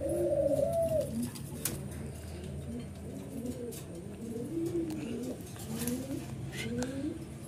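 Several pigeons coo repeatedly at close range in a loft, soft rolling calls overlapping one another in a steady rhythm, with a faint murmur of background noise.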